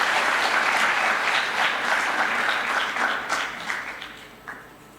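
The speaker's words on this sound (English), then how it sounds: "With a round of applause, ladies and gentlemen, let's welcome" Audience applause at a graduation ceremony, a dense, steady roar of many hands clapping that holds for several seconds and then tapers off, with no talk over it.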